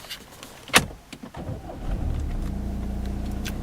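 A 2009 Audi A4 S-Line with 72,923 miles starting by push key: a sharp click, brief crank, then the engine catching into a steady low idle, close and alone.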